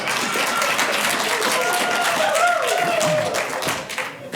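An audience claps and applauds at a city council meeting. Dense, fairly loud clapping fills the room steadily, then thins out at the end.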